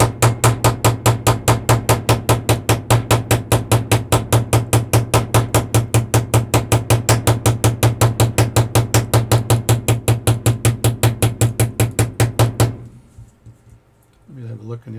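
A small, loose-headed hammer taps dents from a metal pocket watch case in a rapid, steady rhythm, dozens of sharp close strikes that stop abruptly near the end, leaving a quieter background.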